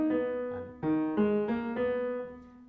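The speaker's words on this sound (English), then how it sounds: "thus the promenade melody would sound like this" Piano plays the promenade melody from Mussorgsky's Pictures at an Exhibition recast in a minor mode, a few clear sustained notes stepping in an even, stately rhythm, quiet and close with no talking.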